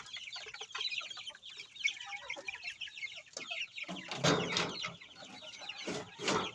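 Chicks and chickens in a coop clucking and peeping, a busy overlapping chatter of small bird calls, with louder close clucks toward the end.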